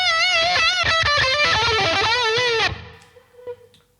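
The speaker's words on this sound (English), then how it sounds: "And then we can add a bit of reverb." Distorted lead guitar through a Peavey Vypyr 75 amp with reverb, a loud run of bent, sustained notes that cuts off and leaves a short reverb tail fading out.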